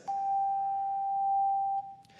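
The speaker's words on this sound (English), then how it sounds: "the other instrument that you all have, and that you're going to hear today, is called a choir chime" A single aluminum choir chime tone bar is struck once, giving a pure, steady ringing note that holds for nearly two seconds before cutting off, with faint room noise underneath.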